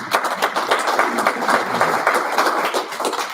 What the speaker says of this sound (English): Big round of applause for them again